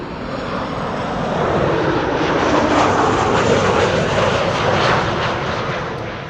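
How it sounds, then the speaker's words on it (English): KLM passenger jet operated by Transavia, arriving from Madrid at Amsterdam Schiphol, a loud broadband roar that swells and holds steady as it passes close overhead, with no voices. "KLM flight 1502 coming in from Madrid"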